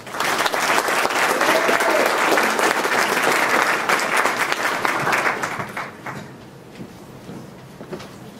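An audience at an endowed lecture bursts into loud, dense applause welcoming the lecturer Matthew Groves, sustained for about five seconds before thinning out into a few scattered claps and quiet room noise.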